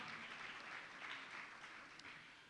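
A ceremony audience honoring two city councilors breaks into applause, a soft continuous patter of many hands from across a room, faint and steady, slowly fading toward the end.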